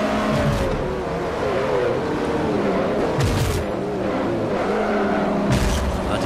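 Ferrari F430 engine in the racing game Forza 4, roaring loud and steady throughout with rising and falling revs and brief shift breaks, no voices over it.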